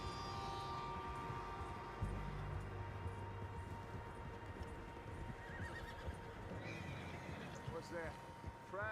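Horses whinny and their hooves clip-clop in Red Dead Redemption 2 as several riders travel in a line, with a steady background hum under the game's sounds and a few high whinnies near the end.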